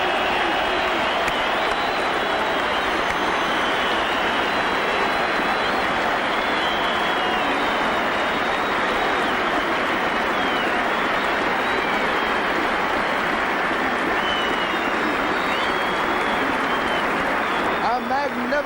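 A cricket crowd at the Wanderers bursts into loud, sustained applause and cheering for Pollock's century, a dense wall of clapping that rolls on without a break from start to finish.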